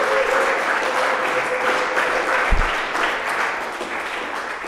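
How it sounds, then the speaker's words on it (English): Applause from a conference audience at a Swift developer conference, a dense steady wash of clapping filling the hall, with one low thump near the middle. "we should also probably give a round of applause to Stuff for pulling off another incredible conference"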